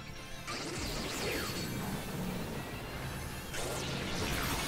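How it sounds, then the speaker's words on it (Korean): Pokémon Scarlet/Violet battle effect for the move Bug Buzz, a harsh, noisy buzzing rush that swells twice with sweeping whooshes, fairly quiet and heard alone. "그냥 벌레의 야단법석 때리겠습니다."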